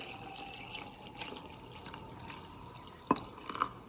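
High-proof 95% alcohol pours over chaga pieces in a jar for a tincture, a faint liquid trickle ending in a couple of sharper splashes, close and quiet, with no voices.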